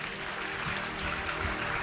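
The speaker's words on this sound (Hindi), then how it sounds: "आपकी ताली की आवाज कम क्यों है?" A church congregation claps at a Hindi sermon, a dense continuous wash of many hands clapping together, steady and fairly loud throughout, with no clear speech on top.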